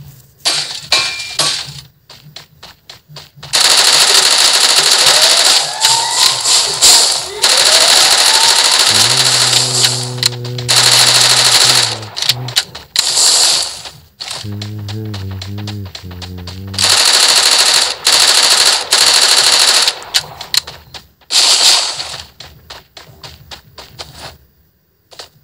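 Rapid automatic gunfire in the mobile shooter game Free Fire, loud bursts of repeated shots separated by short gaps and brief quiet moments, with metallic clinks between volleys.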